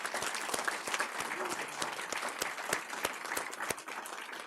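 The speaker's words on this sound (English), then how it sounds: "So let's give a big round of applause to our families." Audience applause at an award ceremony honoring families, a sparse room of individual claps with distinct sharp hits standing out, moderately loud and steady throughout with faint background voices.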